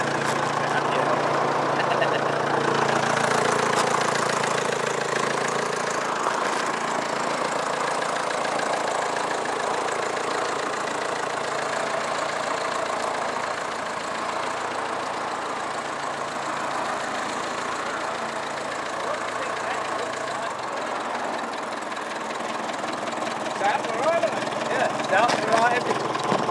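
A 1953 Nuffield Universal classic tractor engine idles with a steady, rumbling drone that holds even and fairly loud for nearly half a minute.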